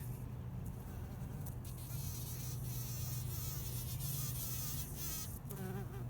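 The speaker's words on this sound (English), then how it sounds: "Oh, we can look at this bumblebee real quick." A bumblebee buzzes among garden plants, a faint, continuous drone with wavering pitch as it moves around nearby, no voices.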